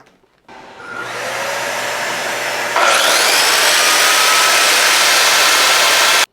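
A 1,200-watt heat gun blows steadily, a broad airy roar that steps up louder partway through and then holds alone at close range.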